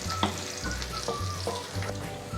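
Finely chopped garlic sizzling in hot oil for a dal tadka, a steady crackling fry with occasional stirring clinks, close and continuous with no talking.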